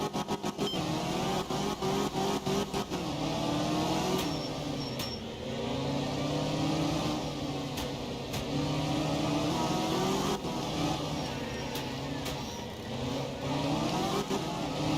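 BMW rally car engine in a racing sim on a foggy mixed-surface stage, loud and continuous, revving up and down through gear changes with sharp shift cuts, close and alone.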